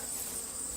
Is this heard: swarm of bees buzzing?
yes